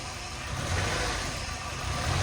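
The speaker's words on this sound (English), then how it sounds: "Okay, it is running rough." Junkyard engine installed in a Scion xB running rough, a loud close broadband idle with an uneven throb, no one talking over it.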